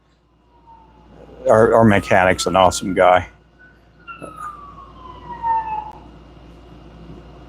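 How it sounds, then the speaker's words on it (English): An ambulance siren passing on a road in Claremore, Oklahoma, a distant falling wail that rises and fades behind someone talking, then continues faintly alone. "I think that's an ambulance coming this way."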